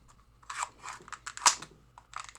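An Xbox One controller shell being pried apart gives a close run of sharp plastic clicks and cracks, uneven bursts with one louder snap midway and quiet gaps between.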